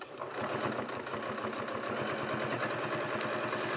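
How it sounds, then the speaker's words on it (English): Sewing machine stitching along the edge of a Hawaiian-style quilt appliqué, close and steady: a rapid, even mechanical chatter of needle strokes running without pause. "I'm going to start at the point and I'm gonna stitch all along the edge."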